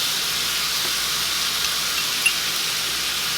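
Fresh thyme and flour cooking in a pan for a cottage pie, giving a steady, even sizzle and hiss that holds at a constant level throughout.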